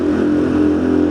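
A vehicle engine drones loud and close as it downshifts climbing a hill, a steady low rumble held for about a second with no other sound.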